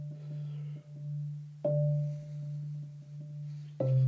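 A mallet percussion bar is played with a soft tickle roll: a sustained, steady ringing pitch with faint rapid attacks underneath, and a fresh strike swelling the tone twice, heard alone and fairly quiet.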